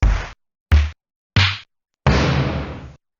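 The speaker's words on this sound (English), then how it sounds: "giving us snare drums that sound like this" Four punchy synthesized snare hits, the first three short and snappy, the last one longer with a noisy, decaying tail, each separated by silence.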